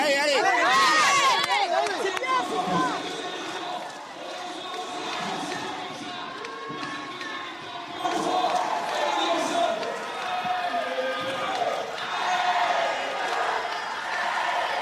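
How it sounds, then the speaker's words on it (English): A French crowd in full voice at a rugby sevens plate final in Clermont-Ferrand, France against the USA, a loud sustained roar of chanting and cheering rising and falling, with a commentator talking over it. "French crowd in full voice here in Clermont."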